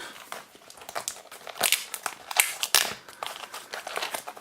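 Foil Yu-Gi-Oh booster packs for the "L'attaque sauvage" set are torn open and handled, giving close, busy crinkling and tearing of wrapper plastic in irregular bursts with no talk.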